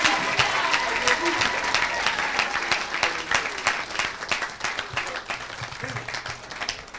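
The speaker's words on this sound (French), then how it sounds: "Put your hands together for the Lord." Church congregation applauding during an evangelist's sermon, a full, sustained burst of clapping from a large crowd that gradually thins toward the end, with some voices mixed in.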